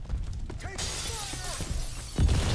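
Glass breaks in the shooter Crysis 2 as a character walks through a pane, a bright crash over steady game ambience and low rumble, followed by a heavier thud near the end.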